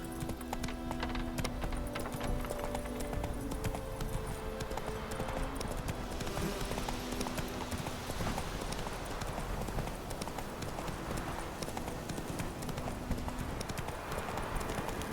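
Horse hooves clip-clop steadily at a gallop in The Witcher 3, a fast even rhythm of thuds running the whole way over a dense game ambience with no talk.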